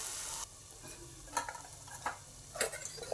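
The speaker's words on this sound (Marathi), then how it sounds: "गॅस सुरू ठेवा आणि परतून घेऊ" Ground spice masala sautéed in a pan on a gas stove for a millet amti curry, a steady faint sizzle with a few louder scraping stirs, no talking.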